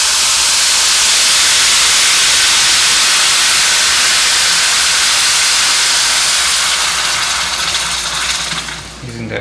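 Water poured into a pan of hot oil gives a loud, steady hiss and sizzle that fills the whole stretch, fading slightly at the very end, with no voices.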